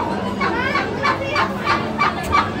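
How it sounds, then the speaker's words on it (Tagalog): Repeated turkey gobbling calls in bursts about every half second, mid-distance, at the Perth Royal Show agricultural fair, with a steady background of voices and activity. "Okay. Turkey. Ay, turkey."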